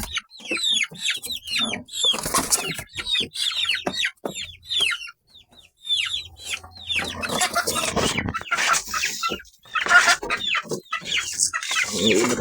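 Chickens cluck and squawk repeatedly at close range in a farm setting, with irregular bursts of loud clucking, a brief pause midway and busy rustling throughout.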